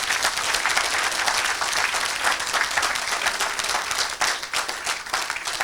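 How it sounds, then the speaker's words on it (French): A church congregation claps and cheers together in sustained, dense applause that stays loud and steady throughout, with a brief dip near the end before it picks up again. "Acclamez pour Jésus."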